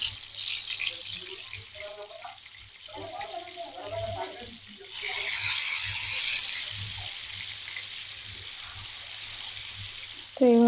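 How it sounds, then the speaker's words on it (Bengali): Hilsa fish pieces go into hot oil and set off a sudden loud sizzle that settles into a steady frying hiss. A voice talks quietly before the fish goes in, and another voice cuts in at the end. "তেল যখন গরম হয়ে গেছে এখন আমি হচ্ছে মাছগুলো দিয়ে দিচ্ছি।"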